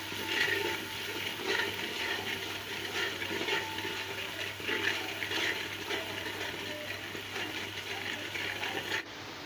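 Water poured steadily into a cooking pot of spiced masala for an egg and potato curry, a continuous rushing, splashing pour heard close and alone for most of the clip before it stops abruptly near the end.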